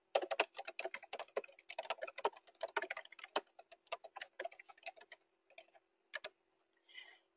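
Rapid, close keystrokes on a computer keyboard while entering box culvert structure data. Dense runs of clicks slow into a few isolated taps near the end, with no voices.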